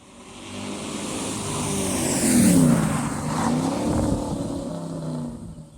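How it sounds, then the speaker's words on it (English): A powerful V8 historic rally car engine roars and revs on a rally special stage, swelling as the car passes close by, its deep rumble and gear changes loud throughout. "Listen this V8."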